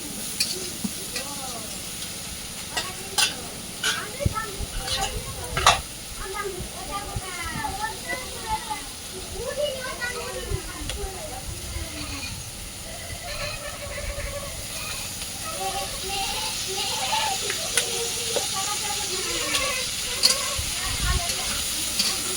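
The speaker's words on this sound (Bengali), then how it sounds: "তরকারিটা ভালো করে কষিয়ে নেবো।" Pumpkin curry with turmeric, salt and green chilies sautéing in a pan, continuous sizzle and hiss with repeated spoon stirs and scrapes, while a person talks over it.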